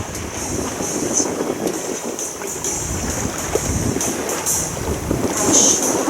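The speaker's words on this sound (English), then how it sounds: "We have a nice breeze, 10 knots, beam reach, so nice and smooth." A steady breeze of about 10 knots rushes over a sailboat on a beam reach near Saint-Tropez, France, with constant wind buffeting and water hissing along the hull, alone and unbroken.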